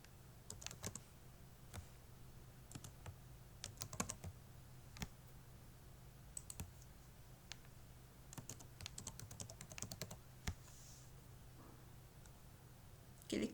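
Keys tapped on a computer keyboard while a password is entered on a Windows 7 PC: scattered light clicks in short bursts over a steady low hum, fairly close and quiet, with no voices.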